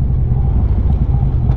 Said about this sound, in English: it's just nothing but traffic